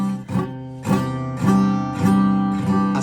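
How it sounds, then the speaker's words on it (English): Chords strummed by a beginner on a cheap guitar, five distinct strums in a steady rhythm, each with a bright buzzy attack and short uneven ring, close and moderately loud with no talking. "So the beginner has their fingers in the right spot, they're strumming the right strings, but the chords sound like this."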